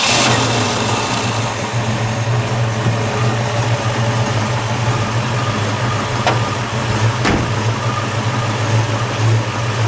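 1965 Ford Mustang 2+2 Fastback with a 289 V8 running steadily close by, a strong low engine drone with a couple of brief revs, no talking.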